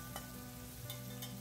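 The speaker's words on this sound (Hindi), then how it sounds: "ये सब डालने के बाद इसको अच्छे से मिक्स कर लेंगे और इन सबको अब छोड़ देंगे थोड़ा पकने के लिए।" Green chilies, salt and peas fry in a pan for street-style samosa filling, a steady close sizzle with occasional stirring scrapes, no talk.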